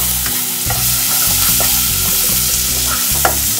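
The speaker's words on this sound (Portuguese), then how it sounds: "E deixa fritando um pouquinho." Food sizzles and crackles in a hot pan as chicken for stroganoff fries, with repeated scraping and stirring strokes over a constant frying hiss, close and loud.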